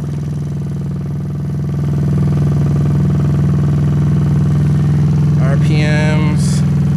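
A GY6 150cc scooter engine fitted with a new carburetor runs steadily close by with a strong low drone, its pitch rising a little near the end as the revs climb.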